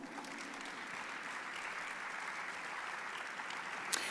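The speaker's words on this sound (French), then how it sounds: "Oui, vous pouvez entrer, je crois, sous vos applaudissements" A television studio audience applauds steadily as guests walk onto the set, a dense, even wash of clapping heard from a distance with no talk.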